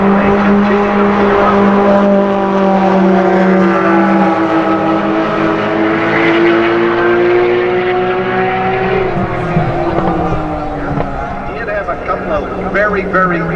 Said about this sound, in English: GT3 chasing a beautiful orange McLaren